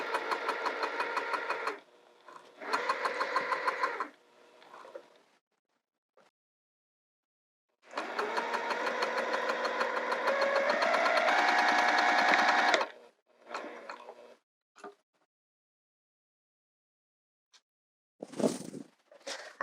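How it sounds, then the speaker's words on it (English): Sewing machine back-stitching the top corner edges of a skirt, stitching back and forth in several loud mechanical bursts separated by pauses, with a few shorter runs and a faint clunk near the end. "So I back stitch the top corner edges."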